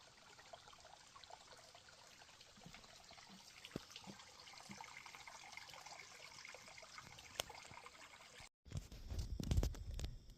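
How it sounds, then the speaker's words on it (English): Faint trickling stream of water in a rocky granite gorge along a brook trail, a soft steady dribble heard from a distance, with a louder rustling burst near the end. "Very nice trickle."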